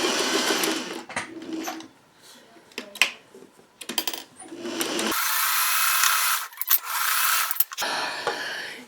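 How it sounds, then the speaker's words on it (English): A sewing machine top stitches a crumb quilt block in several short runs, whirring and stopping, then one longer sustained buzzing stretch, with small clicks and handling noises in the pauses. "Let's open this all up and let me do my top stitching."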